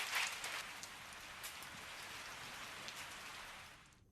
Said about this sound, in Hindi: ऋषिकेश और आसपास के इलाकों में झमाझम बारिश से लोगों को राहत मिली है